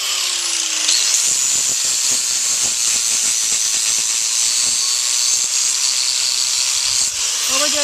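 Power grinder trimming and levelling the heel of a horse's hoof during a natural barefoot trim, making a loud, steady high hiss and whir that runs unbroken and close up.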